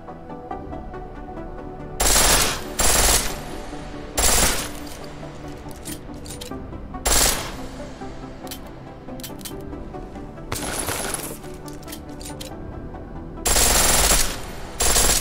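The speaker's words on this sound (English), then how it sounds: "The pistol in full auto will take down targets fast" Full-auto pistol fire in Deus Ex: Mankind Divided, loud sharp bursts at irregular intervals with a constant game background bed under them and no talking.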